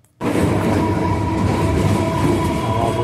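A Kolkata Circular Railway train runs past the Syama Prasad Mookerjee Port, its loud, steady rumble of wheels and carriages rising abruptly after a brief quiet and then holding close and constant.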